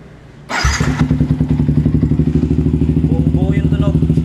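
A motorcycle with an HGM exhaust pipe and no silencer starts with a thump. It then settles into a loud, close, deep, rapidly pulsing idle that revs slightly, with a voice briefly audible.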